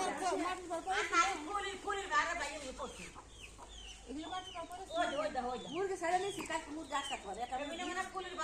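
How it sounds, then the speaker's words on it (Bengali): Domestic chickens clucking around a house, a busy run of repeated clucks and squawks close by, with some louder calls in the middle and a brief quieter stretch. "হ্যাঁ এই মুরগিটা খুব বিরক্ত করে গেল এই যে বাড়ির ভিতরে"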